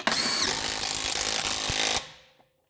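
An impact gun tightens the wheel nuts on a 2008 Subaru Impreza in one loud, close, continuous burst of about two seconds that stops abruptly and leaves a brief fading ring.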